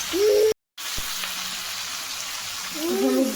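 Tomatoes frying in a pan of oil for a spicy Bengali aloo dum, a steady broadband sizzle running throughout with a brief cut near the start and a faint tonal whistle at the beginning and end.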